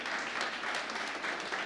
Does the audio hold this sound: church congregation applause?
yes